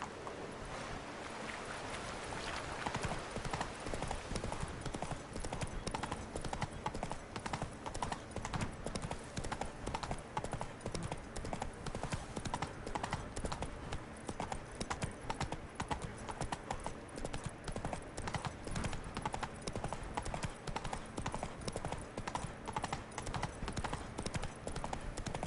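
Horse hooves clip-clop steadily at a trotting pace in The Witcher 3: Wild Hunt, Blood and Wine expansion, a close, continuous rhythm over a faint outdoor ambience.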